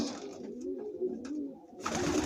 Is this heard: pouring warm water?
no